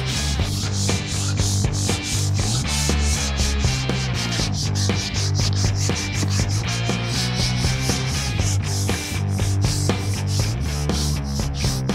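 Rhythmic back-and-forth rasping of sandpaper rubbed over wood by hand, even strokes repeating steadily and close up, with no voices.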